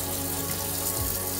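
Hot water running from a kitchen tap into bowls, a steady continuous rushing stream heard up close for a short moment with no talking.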